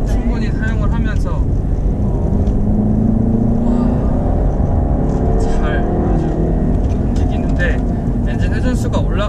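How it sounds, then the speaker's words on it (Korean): Gasoline engine of a Jaguar E-Pace revving up as the SUV climbs a hill, a steady rising drone held at high revs beneath continuous talk. "가솔린 엔진으로서 엔진의 회전을 충분히 사용을 하면서"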